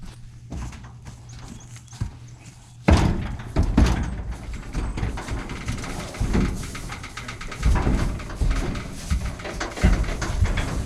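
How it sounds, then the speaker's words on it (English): A metal horse trailer door is swung open with a sudden loud clank, followed by rattling, hoof clomps and shuffling as Suffolk Punch colts are led inside, the knocks and thuds recurring irregularly up close. "So we open up the door and lead him right in."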